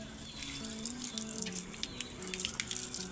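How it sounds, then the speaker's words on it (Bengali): Water pours steadily onto dry potted plants on a rooftop, a continuous close splashing and trickling flow with no voices. "আজকে একটু তাড়াতাড়ি জল দিয়ে দিচ্ছি ওপরের ছাদটা"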